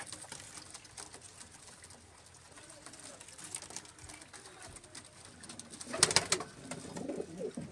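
Sialkoti breed pigeons coo softly on a rooftop loft, a faint murmur of calls with light wing patter, rising to a louder burst of fluttering and cooing near the end.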